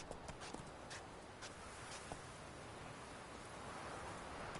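Hooves of the horse Roach in The Witcher 3 clip-clop in a steady walking rhythm over a faint background hiss, fairly quiet and unaccompanied by talk.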